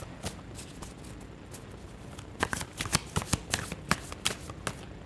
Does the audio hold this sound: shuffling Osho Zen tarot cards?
yes